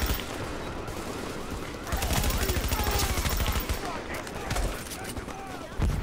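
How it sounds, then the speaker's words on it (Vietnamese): Sniper and other gunfire in the video game Tom Clancy's The Division, Clear Sky DLC, on PS4: dense, continuous bursts of shots and impacts over several seconds, with background game noise throughout. "Cần những cái sniper sao nó bắn tôi hoài."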